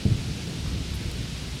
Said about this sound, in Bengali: আকাশ ভেঙে নামল ঝুম বৃষ্টি